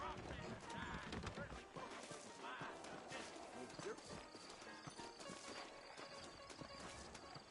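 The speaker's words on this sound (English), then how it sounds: "I got the horses saddled up and ready out front." In the Red Dead Redemption video game, saddled horses clip-clop on their hooves amid a busy game soundscape with an occasional whinny, the hoof beats fairly quiet and layered under other game sounds and brief voices.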